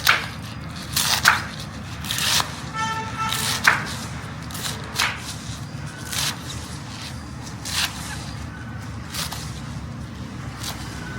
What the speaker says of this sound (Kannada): ಕೆಸುವಿನ ಸೊಪ್ಪನ್ನು ಮೊದಲು ಕಟ್ ಮಾಡ್ಕೊಳ್ಳೋಣ